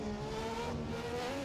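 Aston Martin Valkyrie hypercar in a racing video game on the Nürburgring, its engine droning steadily at high revs with a faint tire squeal, loud and continuous throughout.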